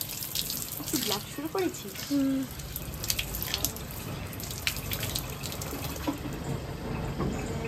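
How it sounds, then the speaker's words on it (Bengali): Leaves being rinsed under running kitchen tap water, a steady splashing stream into a sink with soft drips, close by, while a few people talk over it. "একটু ধুয়ে দিচ্ছি, পাতাগুলি নোংরা নোংরা হয়ে গেছে না।"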